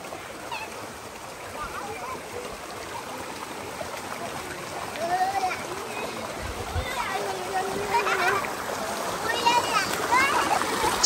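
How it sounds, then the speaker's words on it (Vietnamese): Water splashes and trickles in a forest stream as people bathe, with a steady wash of flowing water throughout and children and adults talking intermittently over it, the splashing growing a little louder toward the end. "Tắm suối."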